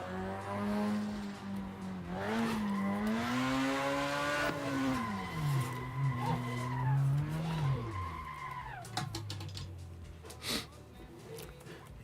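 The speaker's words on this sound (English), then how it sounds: "if my revs start going down, I can just clutch it in, and that'll bring them up enough to where I can keep that drift going" A drifting car's tires skid and squeal in long, loud sliding tones that rise and fall with the engine revving underneath, continuous for several seconds before tapering off into lighter noise.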